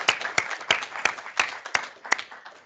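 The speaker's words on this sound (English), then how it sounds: "So can I ask a round of applause for our speakers today?" A small audience claps for the speakers at a cybersecurity seminar, sparse and rhythmic with individual claps clearly separated, fairly faint and brief.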